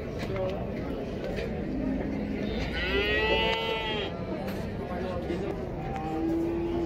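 A male calf moos at a crowded livestock market in Taraz, a drawn-out call rising through the middle of the stretch over steady crowd murmur and nearby talk.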